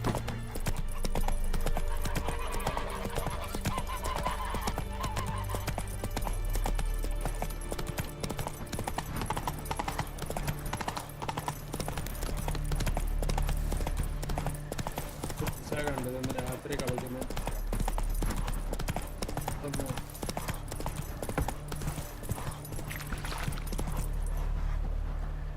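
Roach the horse gallops continuously in The Witcher 3, a steady clip-clop of hooves over game music and ambience, with talking heard over the ride.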